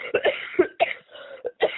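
A person coughs repeatedly in short, close bursts, with brief pauses between the harsh hacks.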